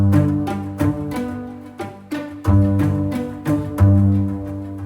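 Low pizzicato strings with most parts muted: deep plucked notes land at uneven intervals, each a heavy attack that fades before the next, close and fairly loud.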